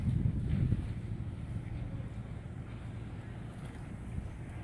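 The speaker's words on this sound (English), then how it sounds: "That's a pilot boat." A pilot boat's low engine rumble passes over water in Charleston, Oregon, with steady wind buffeting the microphone throughout.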